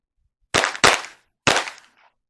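Three sharp gunshots from a Springfield XD-M pistol at an outdoor range: two fired in quick succession, then a third after a short pause, each loud and close with a brief decaying echo.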